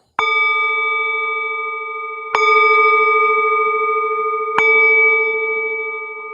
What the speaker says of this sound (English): just ring the bell here